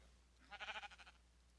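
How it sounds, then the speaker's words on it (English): A Minecraft sheep bleats once, a short wavering baa of several quick pulses, faint and alone against quiet background. "I hear sheep"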